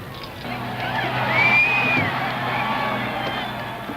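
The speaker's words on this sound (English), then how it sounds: "There's nothing more satisfying than a cheering crowd and a passel of well-wishers to share your moment of glory" Crowd noise at a 1977 riverside off-road race, a steady babble with scattered shouts and whoops swelling at times, some sustained background rumble beneath.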